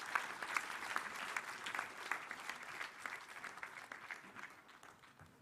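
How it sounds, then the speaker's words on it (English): Audience applause welcoming a minister at a pharmaceutical and medical device conference, brisk clapping with distinct hand strikes that gradually thins and fades toward the end. "Please put your hands together and welcome him with a rousing applause."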